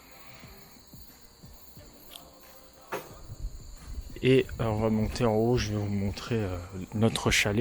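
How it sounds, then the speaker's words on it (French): Steady high-pitched cricket chirping runs through the background at a mountain chalet in Hyogo, Japan, with a person talking close by over it for most of the clip. "En plus on entend les grillons là."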